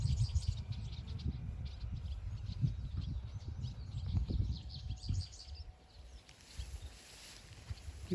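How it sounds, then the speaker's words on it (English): Swallows chirp in scattered bursts around cattle outdoors, their calls fairly faint over low rumbling and shuffling noise near the livestock. "A lot of swallows."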